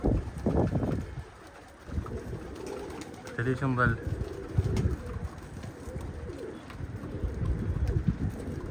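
Pigeons coo in a loft holding several birds, soft repeated throaty calls close by amid shuffling and handling noises, while someone talks over much of it.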